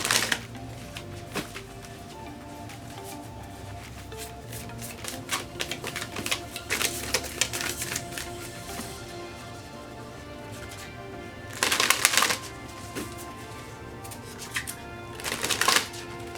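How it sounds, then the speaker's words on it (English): Oracle cards being shuffled in repeated bursts of quick riffling and tapping, up close, with louder flurries near the end. "And now I'm going to go ahead and shuffle"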